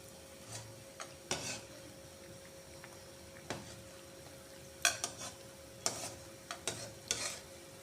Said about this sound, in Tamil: கடாயில் எண்ணெய் ஊற்றி வச்சுருக்கேன் எண்ணெய் நல்லா சூடாயிடுச்சு இப்போ இதை போண்டாவை போட்டு எடுத்துக்கலாம்